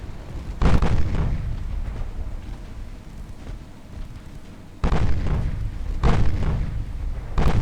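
Warship main battery guns firing in the naval strategy game Ultimate Admiral Dreadnoughts, heavy booming salvos landing in a few loud bursts with a rumbling low tail between them, no talk.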